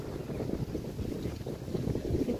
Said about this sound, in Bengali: এদিকে হাওয়াটা কি ভাল লাগছে।